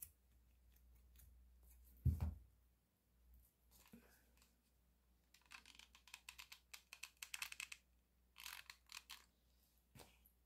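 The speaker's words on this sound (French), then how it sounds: "Là, on vient couper tout simplement." Scissors snip through macrame cord for a child's headband, a cluster of crisp close metallic clicks and cuts following an earlier thump and handling noises, with no voice over them.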